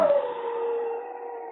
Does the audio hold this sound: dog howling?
yes